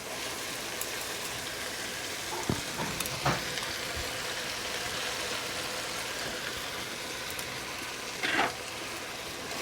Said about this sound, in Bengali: এবার এতে আমি আদা রসুনের পেঁয়াজের যে পেস্ট করে রেখেছিলাম সেই পেস্টটা দিয়ে দেবো